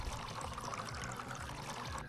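Liquid pours steadily in the Job Simulator video game, a continuous soft trickling wash heard alone at low level for about two seconds.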